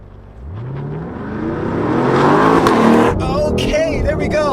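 Two sports cars, among them a V8 Vantage, BMW i8, C8 Corvette and a Tesla, launch together in a drag race, engines rising in pitch as they accelerate hard and loud, with a crowd or voices faintly under the roar.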